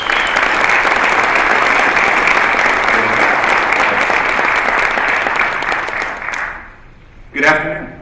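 An audience at NEAF 2017 applauds loudly and steadily for about seven seconds as a speaker is welcomed, then the clapping fades and a voice begins.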